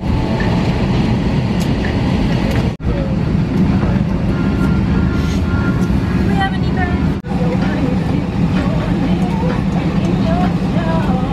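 A steady low engine drone fills an airplane cabin, constant and fairly loud throughout, with a few faint tonal chirps and brief dips.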